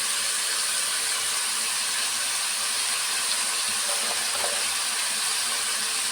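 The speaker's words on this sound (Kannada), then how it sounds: "ಆಯಿಲಲ್ಲಿ ಚೆನ್ನಾಗಿ ಸ್ವಲ್ಪ ಫ್ರೈ ಮಾಡ್ಕೊಂಬಿಡ್ಬೇಕು. ಈ ಥರ ಫ್ರೈ ಆಗ್ತಾ ಇದ್ವಿ." Spices and turmeric fry in hot oil, giving a steady, dense hiss that stays constant throughout with no talk.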